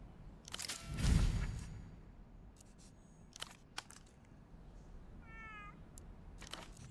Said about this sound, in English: it's a big thing petting a high-grade cat like this